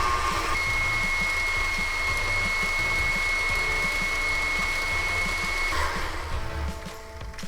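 An electric mixer creaming butter and sugar for yeast-free donut balls, a loud steady motor whine droning continuously with a faint tonal hum, easing slightly near the end.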